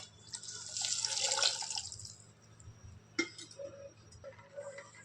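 Soaked tamarind is squeezed and dissolved in water by hand, giving wet squishing and splashing, then a few light drips and clinks, all faint and close.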